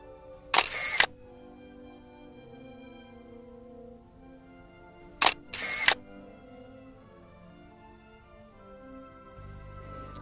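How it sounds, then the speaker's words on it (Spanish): A single-lens reflex camera shutter fires twice in a quiet room at two different speeds. Each release is a pair of crisp mechanical clicks, and the second pair is spaced noticeably wider apart than the first. "con esta velocidad el obturador tarda más en cerrarse y por lo tanto deja pasar más luz"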